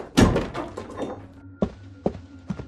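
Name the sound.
door being shut and locked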